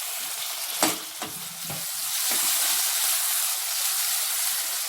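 Tomatoes sauteing in a pan for South Indian vegetable kurma, a steady close sizzle and hiss with a few stirring scrapes and clinks of a spoon near the start.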